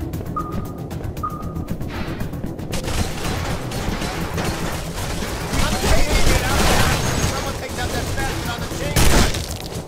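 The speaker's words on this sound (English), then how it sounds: "the burners have a massive chain gun defending" Chain gun fire and scattered shots crackle in the PS2 game Urban Chaos: Riot Response, with loud, rapid bursts and booms that swell in the middle and near the end. Voices are present in the mix.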